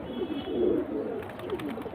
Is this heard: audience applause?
no